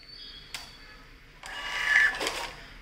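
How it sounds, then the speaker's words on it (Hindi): A thermal receipt printer prints a bill: a soft click, then a short buzzing whir of the print mechanism rising and fading over a quiet background. "आप देख सकते हैं कि प्रिंटर बहुत ही बहुत ही बहुत ही फास्ट है।"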